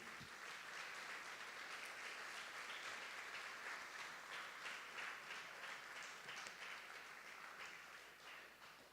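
Steady applause from a church congregation fills the space, loud and continuous, with no break in the dense clapping until it tapers a little at the end.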